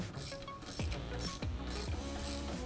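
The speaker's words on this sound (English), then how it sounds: "Tighten the bolt with a 19mm wrench or socket." A 19mm wrench or socket ratchets a clamp bolt tight on a TeraFlex steering stabilizer relocation kit for a Jeep Wrangler JK, giving a close, steady run of rapid mechanical clicks with a few heavier pulls.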